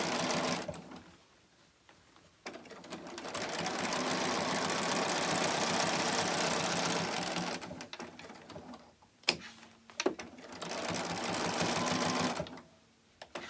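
A sewing machine stitches fabric in two sustained runs of rapid, even mechanical chatter, separated by a short pause with a few clicks, heard up close.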